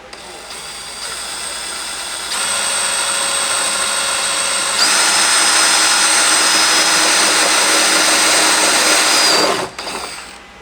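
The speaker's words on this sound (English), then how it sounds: "we're going to be drilling these out with a 5/16 drill bit" A power drill with a 5/16 bit bores holes for a ladder install on a 2010-2022 Toyota 4Runner, its high whine stepping up in pitch and loudness before cutting off near the end.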